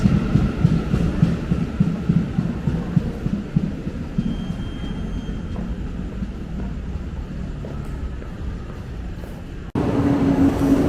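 A KRL commuter train rumbles steadily through Duri station, a continuous low drone with a brief squeal midway and a sharper shift near the end, no voices.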